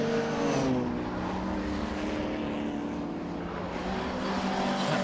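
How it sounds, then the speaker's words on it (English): A Mini Cooper race car engine roars continuously at high revs driving uphill at Knockhill circuit, loud and close, with a steady throaty drone throughout. "in the Mini Cooper. Up the hill we go, the car prepared by Gordon Rogers"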